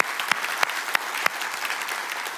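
A church congregation at South Beach Church claps for a longtime member, a steady wash of applause with several louder individual claps punctuating it at regular intervals.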